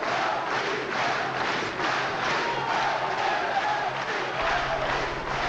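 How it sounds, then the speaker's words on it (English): A dense arena crowd at a WBC middleweight boxing bout roars and cheers for Hacine Cherifi, a continuous loud wash of voices with no breaks. "the crowd certainly looking to exhort their man, Hacine Cherifi."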